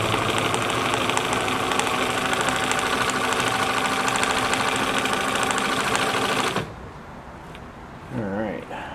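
A Bernina Record 730 sewing machine running a long straight stitch, a fast steady mechanical whir with rhythmic needle chatter that stops abruptly, followed by a brief quiet pause and a small sound.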